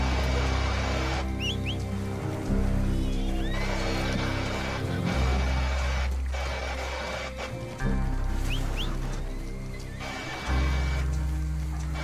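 A frightened horse in the Red Dead Redemption 2 video game lets out several loud, shrill whinnies over a steady low drone, with snorts and hoof sounds between the calls.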